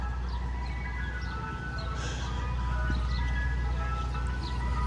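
A Mr. Softee ice cream truck plays its tinny jingle on a city street in Camden, New Jersey, faint and distant beneath steady traffic rumble and outdoor noise.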